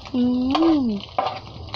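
Fish with ginger frying in a pan overflowing with oil, a steady close sizzle running under a brief, drawn-out voice exclamation, with a few sharper crackles afterward.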